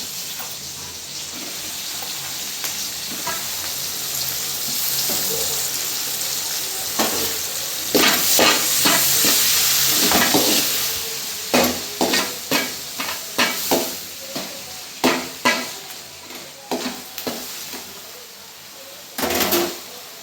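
Loud, continuous sizzling of tomatoes frying in a tempering over high heat, with a series of sharp, rhythmic clinks and scrapes from a spatula stirring.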